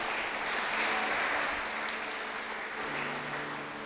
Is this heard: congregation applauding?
yes